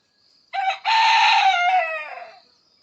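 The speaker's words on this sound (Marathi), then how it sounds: "तर बघा आता हा बाग देत आहे हा कोंबडा" A rooster crows once in a backyard garden, loud and close, a long drawn-out call that fades at the end against a quiet background.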